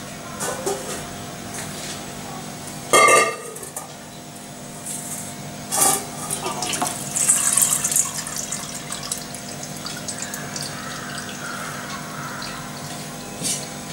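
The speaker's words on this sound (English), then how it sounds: "Now first I am going to drain this water." Water drains off soaked grated potatoes in a home kitchen: a steady trickle and splash with a few sharper bursts of pouring, fairly close and moderately loud, with no talking.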